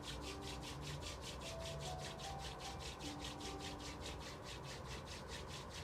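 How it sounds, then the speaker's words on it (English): Palms rubbed together hard to generate heat, with rapid, even back-and-forth strokes making a continuous close swishing friction that lasts several seconds, with no voice over it. "Rub your both palm. Make a heat."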